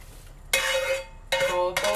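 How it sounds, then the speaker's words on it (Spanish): Sofrito scraped from a frying pan into a pot of chickpea and pumpkin soup and stirred, giving a few loud bursts of clattering, sizzling and scraping with short pauses between. "Le vamos a añadir el sofrito, este que teníamos en el sartén que ahorita preparamos."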